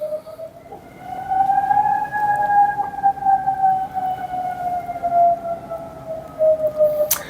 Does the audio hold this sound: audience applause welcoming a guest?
no